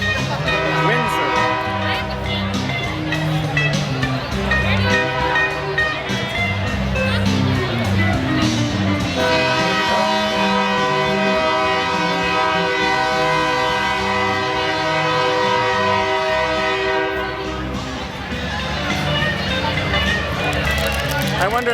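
A passing train blasts its horn in long sustained tones over the rumble of rolling railcars, loud and close, while people talk faintly underneath.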